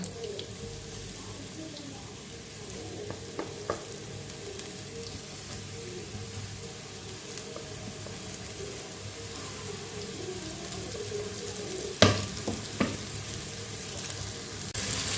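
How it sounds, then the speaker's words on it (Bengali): Crispy coated chicken fingers frying in oil, a steady close sizzle with occasional clicks and a sharp clatter near the end as pieces are turned, fairly quiet and continuous with no speech. "এবার এগুলো একটু উল্টে পাল্টে ভেজে নেব"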